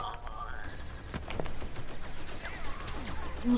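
Star Wars Battlefront gameplay with bursts of blaster gunfire, rapid sharp shots and zaps scattered through a busy battle mix, moderately loud, with players talking over it.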